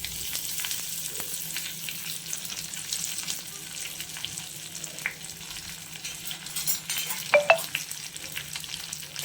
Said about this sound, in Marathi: छान अशी फोडणी तयार झाली बघा.